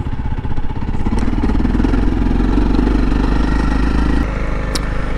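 A Honda CRF300L dual-sport motorcycle engine running loud and close on a Southwest Utah backcountry trail, a steady throbbing idle with a slight rise in revs and a few mechanical clatters.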